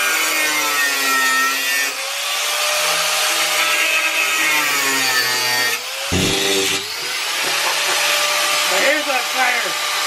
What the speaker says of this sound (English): we're just gonna be grinding away today, literally